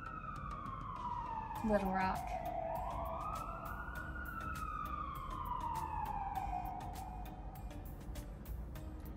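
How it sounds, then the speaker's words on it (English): A police-type emergency siren wails outside a college student's home, rising and falling loudly as it passes, with a person talking briefly over it. "I need to learn to stop talking when the sirens are going"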